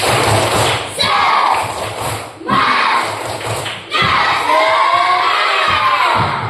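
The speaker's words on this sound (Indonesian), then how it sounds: "Coba kita tepuk semangat dulu tinggal satu kali ya." Schoolchildren in a classroom perform a rhythmic spirit clap, bursts of group clapping and thumping in patterned sections with shouted chanting voices, loud and close, separated by brief pauses.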